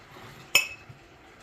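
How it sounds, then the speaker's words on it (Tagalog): A single sharp clink of garlic cloves dropped into a glass jar for garlic pickle, bright and close, followed by a faint softer tap in an otherwise quiet room. "Ilalagay ko na itong garlic guys dito sa jar."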